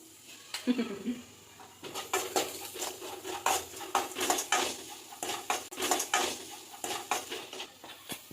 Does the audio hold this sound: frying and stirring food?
yes